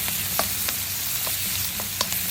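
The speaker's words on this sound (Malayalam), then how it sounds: "പച്ചമുളകും കൂടെ ഇട്ടത് ഒന്ന് വഴറ്റിയെടുക്കും." Onion, garlic, ginger and green chillies sauté in a hot pan for a broken wheat vegetable pulao, giving a steady close sizzle with scattered sharp pops and stirring clicks, no voices.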